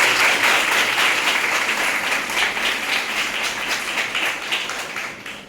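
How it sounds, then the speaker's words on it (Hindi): An indoor audience at a nursing officers' gathering in Varanasi claps for Acharya Vibhishan. The applause is dense and sustained, then tapers off toward the end. "मैं चाहता हूं कि आचार्य विभीषण के लिए आप बहुत जबरदस्त तालियां बजाएं।"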